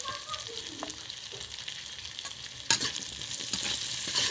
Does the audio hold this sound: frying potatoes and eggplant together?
yes